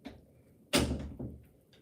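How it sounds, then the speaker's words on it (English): A door swings shut in a home, one solid thud followed by a brief rattling settle, fairly close against a quiet room. "can you close that door?"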